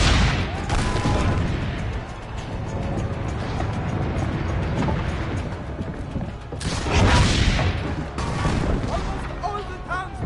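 Cannon fire and battle din in Assassin's Creed Brotherhood, dense and continuous with heavy low booms, mechanical creaks and bursts around the midpoint and near the end, under faint voices.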